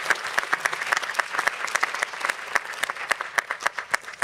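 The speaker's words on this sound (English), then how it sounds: "Can we get another round of applause for Doug Fenner" An audience at a coral talk claps steadily for the speaker, a dense, continuous round of applause with a few distinct individual claps standing out near the end.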